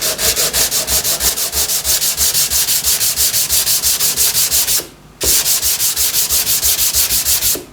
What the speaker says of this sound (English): Let's sand it, see what happens.